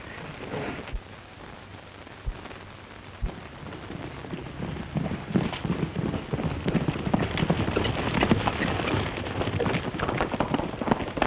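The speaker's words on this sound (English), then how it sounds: "Get the horses, Connors. We're riding" Horses' hooves clip-clopping in a 1938 Western, a busy patter of many overlapping hoofbeats that grows from moderate to louder and denser, like several horses moving off together.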